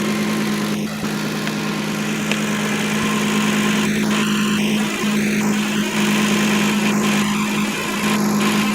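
A steady mechanical hum from a 2007 Kia Sedona idling with its AC compressor clutch engaged and running, a constant whirring drone and occasional clicks, close up and continuous.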